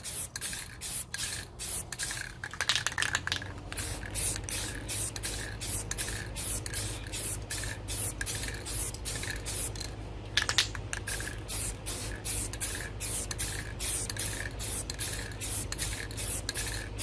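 Aerosol spray paint hissing onto a tumbler cup in rapid repeated short bursts, close and steady, with a brief pause partway through and no voices.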